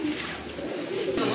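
A pair of Spanish pouter pigeons coo steadily nearby, soft low murmuring over a constant bright hiss of background noise, with no talk.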